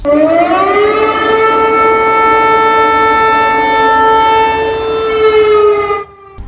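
An air raid siren winds up into a loud, steady wail, holds its tone for several seconds, then abruptly cuts off.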